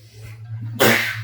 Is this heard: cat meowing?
no